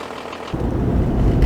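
A Toyota Land Cruiser with an automatic transmission that shifts poorly runs its engine, a low rumble that starts abruptly after a quiet half second and builds, close and fairly loud.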